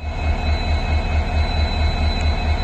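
An Indian Railways express with an LHB rake runs past, a loud steady low rumble with rhythmic wheel beats and no break.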